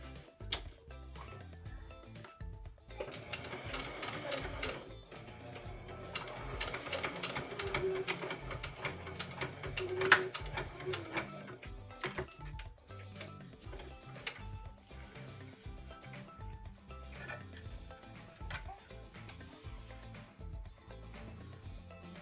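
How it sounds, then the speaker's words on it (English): Sewing machine stitching a dress lining to the main fabric along the edge, running as a steady, continuous mechanical whir for the full stretch with no voices. "I'm just sewing to the right to the edge there, where it attaches to the main"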